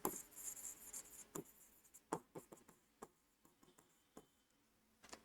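Chalk or marker writing on a board during a chemistry lesson, a series of quiet scratchy taps and strokes in irregular bursts, close and alone.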